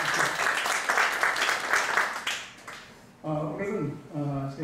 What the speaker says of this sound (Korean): 우리 환영의 박수를 한번 드립니다.